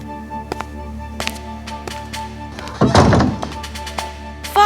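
A single heavy door is banged once, a dull booming thud midway through a quiet scene with faint soft clicks around it.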